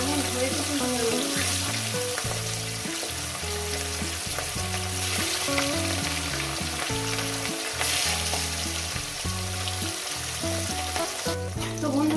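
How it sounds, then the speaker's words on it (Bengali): Rohu fish pieces fry in hot oil with a steady, close crackling sizzle that runs throughout beneath loud rhythmic background music. "এবার আমি মাছগুলো আস্তে আস্তে দিয়ে ভেজে নেব"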